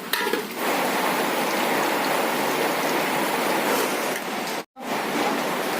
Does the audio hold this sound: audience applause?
no